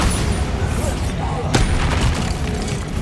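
Repeated Confringo and Bombarda spell blasts from Hogwarts Legacy gameplay, a dense barrage of booming explosive bursts over a rumbling low-end bed, one sharper crack standing out midway, continuous and loud.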